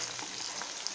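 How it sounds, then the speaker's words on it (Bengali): Ginger garlic paste frying with prawns and onions in a pan, a steady close sizzle that holds an even level for under a second with no voices. "তারপরে আমি চিংড়ি আর পেঁয়াজগুলোকে একসঙ্গেই ভালো করে ভাজবো"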